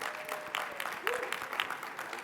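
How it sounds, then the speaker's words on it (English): Audience applause at a plenary session of an anti-corruption conference, a fairly quiet spread of clapping with separate distinct claps and a voice briefly heard over it. "Can we have another round of applause?"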